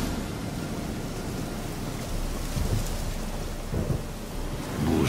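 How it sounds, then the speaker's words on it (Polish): Thunderstorm in the video game The Witcher 3: steady heavy rain hisses throughout while low thunder rumbles swell and roll in the background, no voices. "Burza, psia krew."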